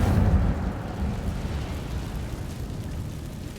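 The Incendio fire spell is cast in Hogwarts Legacy with a loud low whoosh and rumbling burst at the start, settling into a crackling, fading roar of flames.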